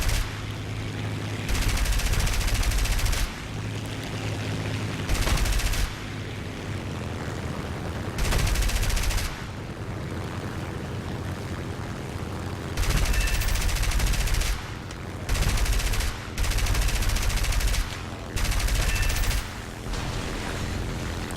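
Russian aircraft machine guns in the War Thunder air combat game fire in repeated loud bursts over a steady engine drone, with pauses between the volleys.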